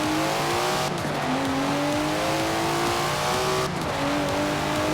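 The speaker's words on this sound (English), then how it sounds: "Never heard a Datsun sound like that, have you?" Datsun car engine in the racing game Forza Horizon 4, revving hard through rising gear pulls with two quick shift dips, loud and continuous with faint tire squeal underneath.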